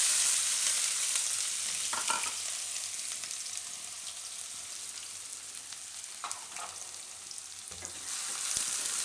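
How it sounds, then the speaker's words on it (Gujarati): Onions and green chillies fry in hot oil, a steady close sizzle with a few brief stirring scrapes, no voices. "તો ડુંગળીને આપણે તેલમાં પાકવા દેવાની છે."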